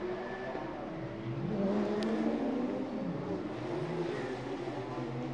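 Porsche Carrera Cup race cars entering the pits at a street circuit in Chonburi, engines droning and rising in pitch as they pass, a blended mid-distance roar with sweeping revs and a steady background hum.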